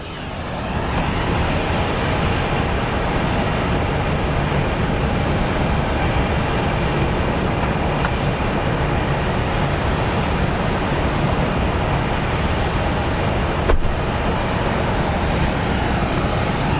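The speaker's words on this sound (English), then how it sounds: "our Southwest plane is about to go into its gate" A Southwest airliner taxis toward its gate at Phoenix Sky Harbor International Airport, its jet engines producing a steady, loud broadband roar that holds throughout.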